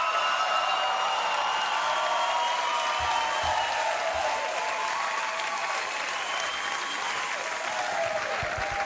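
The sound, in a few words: studio audience applause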